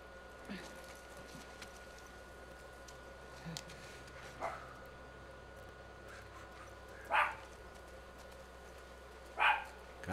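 A few dog barks in the video game The Last of Us Part II, two sharper yaps standing out near the end, over a steady low background hum with faint other sounds.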